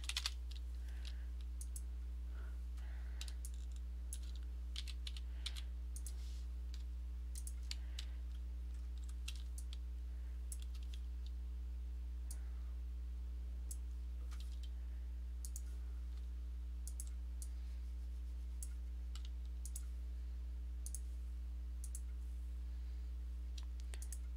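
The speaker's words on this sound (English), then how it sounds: "I can hear myself clicking." Sparse, light clicks from a Wacom Intuous Pro pen or a mouse while a comic is digitally coloured in Clip Studio Paint, scattered irregularly over a loud, constant electrical hum, with no speech.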